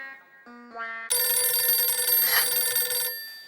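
A telephone rings with a bright electronic tone, starting with a few short rising notes and then a loud sustained ring for about two seconds.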